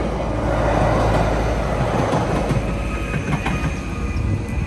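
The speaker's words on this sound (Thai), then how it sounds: "นี่ค่ะรถไฟมาแล้วปื๊ดปื๊ด" A train rumbles past close by, a dense roar with faint rail clatter and squeaks, loud and continuous with no voices.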